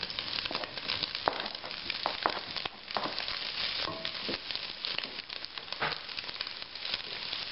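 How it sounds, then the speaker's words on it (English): Half a pound of andouille sausage sizzles in a hot pan, a steady, crackling hiss with scattered brighter pops over several seconds, close and unbroken by speech. "Here goes that half a pound of andouille"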